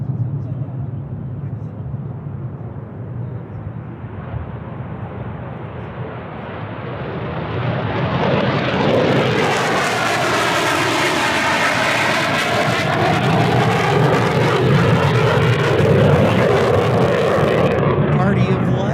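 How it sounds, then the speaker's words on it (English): F-16 fighter jets fly past at Tucson International Airport, a low engine rumble swelling into a loud, sustained roar with a sweeping jet whine over the last half, as people talk over it. "here comes some more F-16s"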